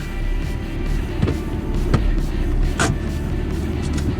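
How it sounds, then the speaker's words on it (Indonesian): BMW M2 Competition drifting, a steady loud engine and road roar with several sharp tire-squeal bursts cutting through, no talk. "Gua ngebawa M2 Competition nih."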